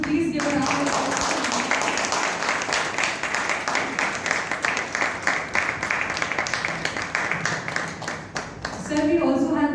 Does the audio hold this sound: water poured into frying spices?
no